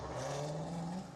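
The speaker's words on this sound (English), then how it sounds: "that is a Chrysler 300 with a burble tune" A Chrysler 300 with a burble exhaust tune rumbles past in a short, low, steady drone, fairly close and then easing off at the end, with no talking.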